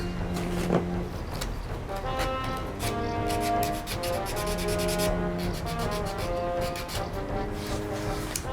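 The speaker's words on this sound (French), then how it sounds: "Ensuite, on ponce bien les bords." Sanding the edges of a PVC sheet, a steady close rubbing and scraping that runs continuously with slight rhythmic strokes, moderately loud with no talk.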